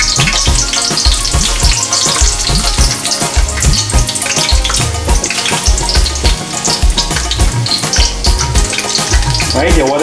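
Seasoned pork frying in a pot for a stew with pigeon peas, a loud, continuous crackling sizzle with occasional stirring clatter, close up and steady throughout with no talking.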